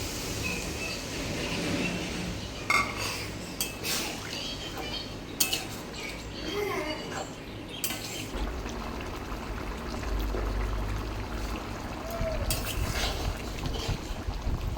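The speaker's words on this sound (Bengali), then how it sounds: "এবার আমি এর মধ্যে জল দিয়ে দেবো।" Water pours into a pan of jackfruit curry, giving a steady hissing sizzle with a low rumbling splash beneath and a few clinks of utensils against the pan.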